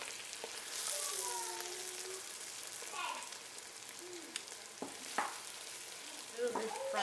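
Ground crayfish and onion sweat in a pan for okra soup, a quiet steady sizzle with a few spoon scrapes and clinks, close but faint, while someone speaks briefly over it.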